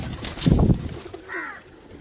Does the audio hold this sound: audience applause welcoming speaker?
no